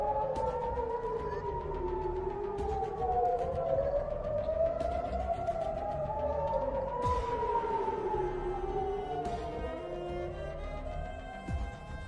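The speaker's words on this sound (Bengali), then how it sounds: "পাল্টা হামলার আশঙ্কায় জেরুজালেমে সাইরেন বাজতে দেখা গেছে" Air raid sirens in Jerusalem wail continuously, with overlapping rising and falling tones sweeping slowly up and down for the whole stretch, loud and sustained with no talk.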